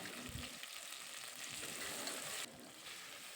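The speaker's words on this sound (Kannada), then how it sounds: "ನಂತರ ಈರುಳ್ಳಿ ಹಾಕಿ ಫ್ರೈ ಮಾಡಿ ಸ್ವಲ್ಪ ಶುಂಠಿ ಬೆಳ್ಳುಳ್ಳಿ ಪೇಸ್ಟ್ ಹಾಕಿ ಸ್ವಲ್ಪ ಪುದೀನ ಹಾಕಿ" Onion frying in a pan with ginger garlic paste and mint, a soft, steady sizzle at low level with faint stirring scrapes, no voices.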